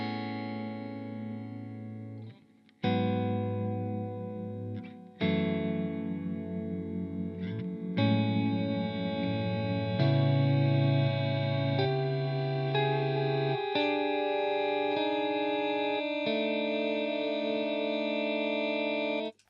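An electric guitar through an MXR Layers pedal builds a lush ambient soundscape of sustained, layered tones that swell and stack across successive notes, steady and close with no talk, fading into an eerie wash.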